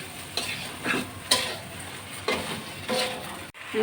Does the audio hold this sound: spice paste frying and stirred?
yes